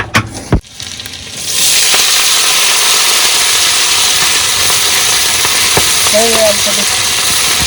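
Food frying in a pan as a home meal is cooked, a loud steady sizzle rising in after a few knocks and clatters at the start, continuing evenly with a brief faint tone near the end.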